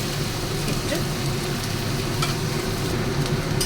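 A steady, loud sizzle of onions frying in a pan, continuous and close, with faint clinks of stirring.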